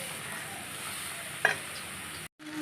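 Boiled green jackfruit stirred into spices frying in oil, a steady moderate sizzle with a single clack of a utensil, then a brief cut to silence.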